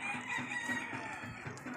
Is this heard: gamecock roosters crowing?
yes